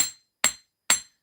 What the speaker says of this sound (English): hammering them together like that will it will, they'll sink into each other